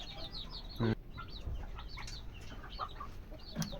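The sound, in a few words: desi chicks chirping before vaccination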